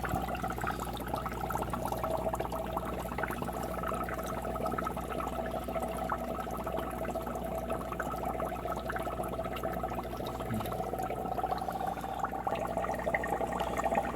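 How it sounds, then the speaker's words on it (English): Steady fizzing and bubbling water from an air pump aerating a SURF4 algae turf scrubber, a continuous soft wash with a faint hum beneath, fairly quiet and unchanging. "got plenty of bubbles going on here"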